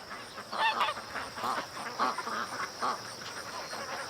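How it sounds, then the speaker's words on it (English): Ducks and geese call outdoors at night near mud, a run of repeated honks and quacks at moderate distance, irregular and overlapping over a quiet background. "I just watched a limping duck."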